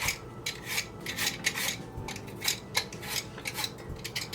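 A hand peeler scrapes the skin off produce, giving repeated soft rasping strokes in an irregular rhythm, close and fairly quiet with no talking.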